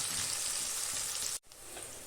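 Onions sautéing in a pan for a hariyali chicken give off a steady, close hiss of sizzling, broken by a brief silent gap before the frying resumes.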